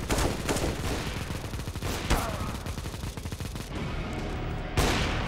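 Decoy grenade in a shooter video game giving off fake gunfire: dense, continuous rattling bursts of shots with a few sharper loud cracks, close and steady throughout.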